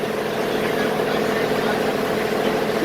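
A tank engine steam locomotive sits idling at Westport station, giving off a steady, continuous low rumble and hiss that holds an even level throughout with no breaks.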